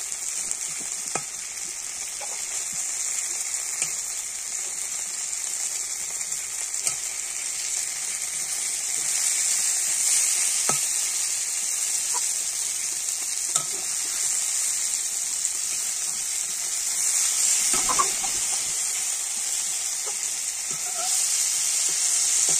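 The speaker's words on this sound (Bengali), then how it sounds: "বেগুনটা ভেজে নিয়েছি" Brinjal slices fry in a pan of oil with a loud, constant sizzle, punctuated by sparse scraping and stirring knocks from a spatula, with no one speaking.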